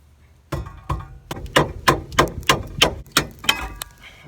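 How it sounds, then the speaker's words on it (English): A mallet hammers repeatedly at a rusted, stuck brake caliper on a Mazda Miata, about ten sharp metallic knocks in an irregular rhythm, close and loud with no talking. "Mallet."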